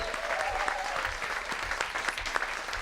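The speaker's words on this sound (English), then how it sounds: "So give them one more well-deserved hand of applause." Festival crowd at the Satchmo Summerfest stage applauds steadily throughout, a moderately distant, even wash of clapping with scattered louder individual claps.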